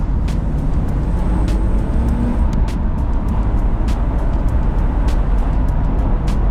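A BMW E36 engine roars steadily during a second-gear pull, a loud, continuous rumbling drone captured from inside the car with a few faint ticks over it.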